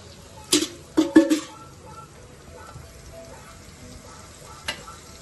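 Whole spices dropped into hot oil for prawn rice give a few sharp, close sizzling bursts in the first second, then fade to a faint low hiss with one last brief crackle.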